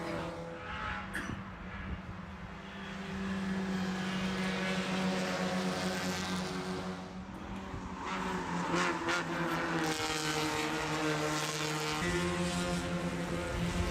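Race cars circulate on the Mid-Ohio road course during an SCCA Hoosier Super Tour session, engines droning and rising as cars pass at middle distance, with a continuous mix of overlapping exhaust notes.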